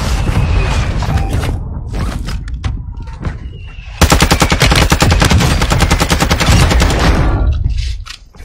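Rapid automatic gunfire in a multiplayer shooter video game rattles loud and close in bursts, then becomes a sustained rhythmic stream of shots lasting several seconds before stopping abruptly.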